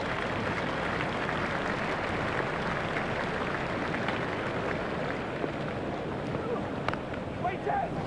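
Cricket crowd at an India versus Australia one-day match applauding and cheering a big lofted hit by Sourav Ganguly, a steady dense roar of clapping across the stadium with a commentator talking over it.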